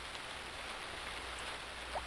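Rain falls in the video game Harvest Moon: Friends of Mineral Town as a soft, steady hiss of drops. It stays faint and even throughout, with no voices over it.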